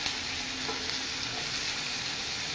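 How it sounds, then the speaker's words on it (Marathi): Tomatoes fry in a pan while cooking matar paneer, giving a soft, steady sizzle with faint stirring crackles throughout, fairly quiet and close, with no voices. "तातूंत हांव घालतले टोमॅटो फ्राय करपाक"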